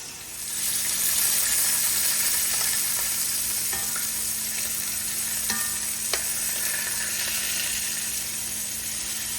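Short ribs sear in a hot pan for braising, giving a steady, loud sizzle and crackle throughout with a few sharper pops and spits, and no talking.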